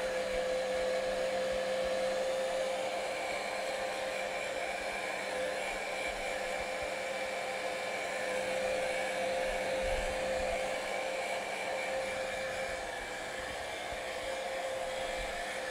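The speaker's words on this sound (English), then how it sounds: "I'm going to grab my heat gun and I'm going to dry this real quick." A heat gun blows steadily for about fifteen seconds to dry paint on a painting, a continuous close whirring hiss with a faint tonal whine that holds level throughout, with no talk over it.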